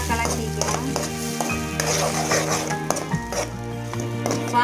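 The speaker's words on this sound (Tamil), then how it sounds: "எடுத்து வச்ச காரத்தூள், காஷ்மீரி மிளகாய் தூள் நல்லா கலக்கிக்கலாம்." Spoon scraping and stirring through a tomato gravy in a pan as salt and Kashmiri chili powder are mixed in, soft rhythmic clinks over a light sizzle and low kitchen hum.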